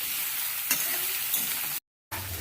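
Fish curry sautéing in a pan gives a steady broadband sizzle with a few faint stirring scrapes, then cuts briefly to silence before resuming.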